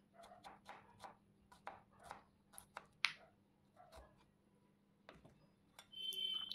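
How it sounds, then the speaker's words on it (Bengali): Thin onion slices chopped with a knife on a board while cooking a Bengali recipe, a run of crisp close taps in an uneven rhythm with short pauses, then a louder burst of clatter at the end. "যতটা সম্ভব পাতলা পাতলা করে কেটে নিচ্ছি।"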